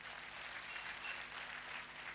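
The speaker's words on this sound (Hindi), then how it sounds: "एक बार जोरदार तालियां बजाइए" Thunderous audience applause at a Forever Living distributor success day event in Hyderabad, a dense steady wash of clapping heard faintly from a distance.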